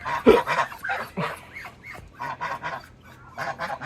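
Domestic ducks give a series of loud, close, nasal honking calls in short bursts with brief pauses between them.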